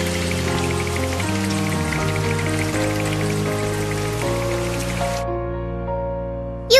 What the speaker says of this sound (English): You can't go out in this rain.